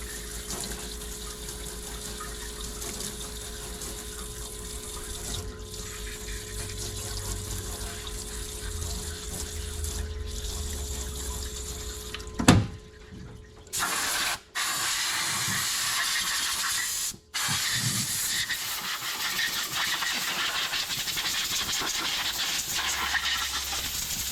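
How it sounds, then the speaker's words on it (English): Water hosed over engine parts and piston rings during a Ford FE 445 engine assembly, a steady broad hiss of spray running for about twelve seconds, then broken by short pauses and restarts, with no talking. "we'll just kind of hose this down a bit"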